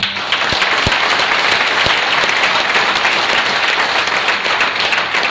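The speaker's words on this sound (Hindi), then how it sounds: "जोरदार ताली" Loud audience applause fills a training-seminar hall after a speech on Bhagat Singh, dense steady clapping from a large crowd lasting several seconds without a break.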